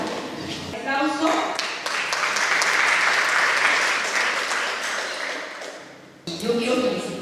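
Audience applause for a climate change speaker, a social consultant and citizen movement coordinator, at a public talk: sustained clapping swells and holds for several seconds before dying away, with a voice briefly heard before and after.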